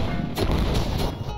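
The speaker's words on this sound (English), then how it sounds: "you have a cannon." A cannon fires in the video game Ocean's Heart, giving a loud, booming blast with a crashing, explosive burst that fills the whole moment.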